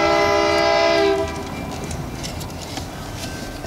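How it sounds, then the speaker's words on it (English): A train near a shop passes close by with a loud horn blast for about a second, then a steady rumble and rolling clatter of the wagons continues. "This is that train that always drives me insane inside the shop."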